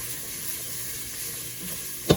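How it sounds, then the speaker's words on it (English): Onions sauté in hot olive oil for cabbage soup with an even, close sizzling hiss, ending in a single sharp utensil knock against the pan. "You'll add the onions first, you know, saute them on up."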